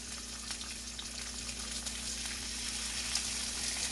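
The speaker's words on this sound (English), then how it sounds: "So I'm just gonna crack right in that butter. Now I'm gonna crack the other one" Eggs fry in butter in a pan, giving a steady, close sizzle with fine crackling spread evenly across the whole stretch. No one speaks.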